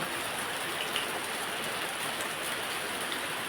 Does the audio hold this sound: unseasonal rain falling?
yes